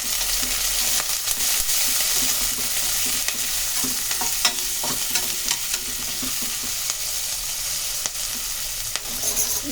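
Sliced onions, green chillies and curry leaves frying in an egg curry pan, a loud, dense, continuous sizzle with faint stirring clicks throughout, no voices.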